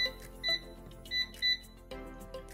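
Three short electronic beeps from an air fryer's controls, spaced about half a second apart, followed by a longer tone, over a quiet background hum.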